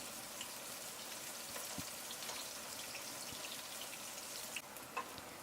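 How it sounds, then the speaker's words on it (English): Garlic and sliced onions fry in a pot for a fish noodle soup, a faint, steady crackling sizzle running throughout with occasional soft pops and stirring clicks, no voices present. "Then add garlic to the pot, followed by the sliced onions. Give them a stir and fry for a minute."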